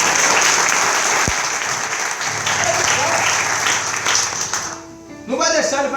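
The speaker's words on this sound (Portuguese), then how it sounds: "Pode aplaudir o nome de Jesus." Church congregation applauding loudly and steadily at a Brazilian Portuguese evangelical service, sustained dense clapping that thins out near the end as a voice comes in.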